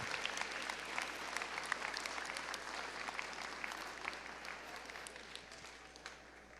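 An audience at a high school honors awards assembly applauds students, a steady wash of many hands clapping heard from a distance at low volume, with no voices over it.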